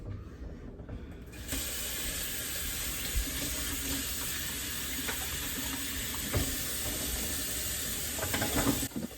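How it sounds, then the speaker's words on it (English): Very hot tap water gushing steadily into a sink while combs, a Denman brush and a head massager are washed, a close, even hissing flow that starts after a second and runs throughout with small clatters. "I'm just washing those out with super, super, super hot water."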